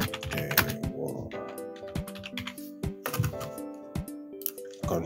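Rapid, uneven keystrokes clatter on a computer keyboard close by, with brief pauses between bursts of typing.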